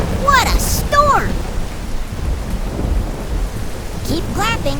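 Several people imitate a thunderstorm by clapping and slapping the floor, making a dense, loud rain-like patter with thumping rumbles throughout, while a voice speaks briefly at the start and end.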